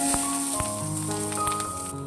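Chopped onion and chilli hit hot oil with cumin and mustard seeds, giving a soft, close, continuous sizzle with a few small crackles over a brief stretch.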